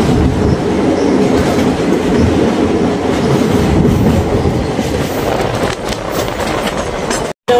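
A local train in Assam, running between Pancharatna and New Bongaigaon, gives a loud, continuous rumble and roar with clattering wheels, heard from on board at speed; no voices are heard.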